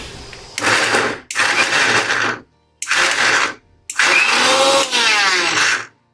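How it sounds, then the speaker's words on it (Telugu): Kitchen mixer grinder grinding tamarind, cumin and salt in four short loud bursts, each lasting about a second with brief silent pauses between, the motor whining close by. "ఇప్పుడు మూత పెట్టుకొని మిక్సీ వేసుకోవాలి."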